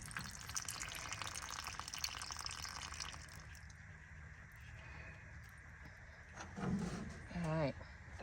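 Water gushing from an overflowing deep freezer waterline, a steady splashing, trickling flow with brief voices speaking near the end.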